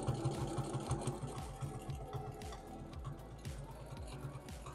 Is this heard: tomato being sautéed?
no